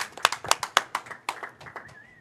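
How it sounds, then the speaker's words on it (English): Audience clapping for two candlepin bowlers being introduced at a charity bowling match: a series of sharp, fairly close hand claps in a loose, steady rhythm that gradually thins and softens, with no talk. "Give them a nice round of applause."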